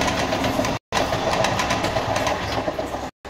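A crowded evening commuter train runs steadily, a loud continuous rattling rumble with rhythmic clatter from the carriages, broken by two brief cuts to silence.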